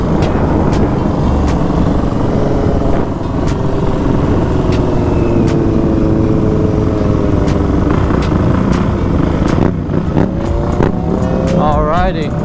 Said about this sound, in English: I've been riding this dirt bike too long.